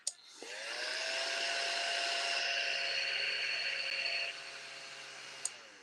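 A small handheld Hoover vacuum, used to clean glitter off a table while making a clay candle holder, whirs steadily and up close for about five seconds, then clicks off.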